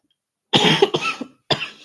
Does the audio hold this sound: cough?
yes